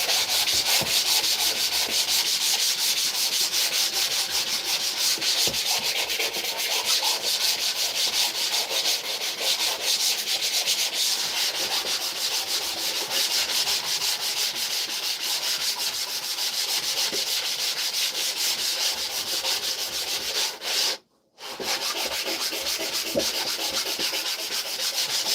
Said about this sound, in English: We did some drywall repair yesterday. Got to sand it down.